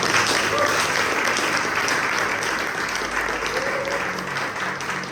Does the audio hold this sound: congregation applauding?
yes